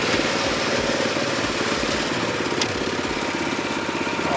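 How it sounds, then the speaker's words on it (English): A small engine runs steadily on a backyard golf-green aerator as its conveyor starts, giving a continuous rough rumble with a regular chugging pulse, close and loud, with no talking. "Conveyor's gonna start."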